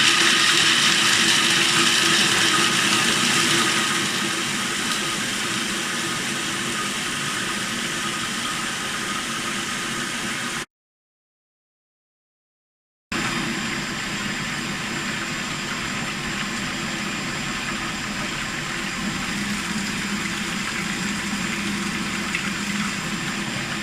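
A blender whirs continuously with a steady, dense grinding drone while processing hazelnuts into a keto hazelnut spread, briefly cutting to silence before resuming at an even level.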